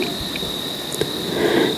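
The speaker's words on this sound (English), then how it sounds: "Today I hear crickets" Crickets chirp outdoors in a continuous high, shrill trill that stays steady and fairly loud, with light background ambience and no voices.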